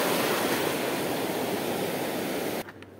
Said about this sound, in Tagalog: Oh, lalaki ang alon mga master.